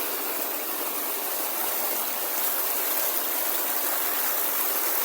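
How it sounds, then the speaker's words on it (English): A small waterfall feeding a riverside stream roars and rushes in a dense, constant wash of falling water, close and loud with no pauses. "Nice little waterfall."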